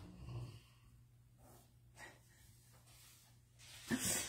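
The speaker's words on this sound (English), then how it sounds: "You hear Carl snoring" A dog snores softly nearby in an indoor room, a low rumbling breath under light household noise, with a louder snort near the end.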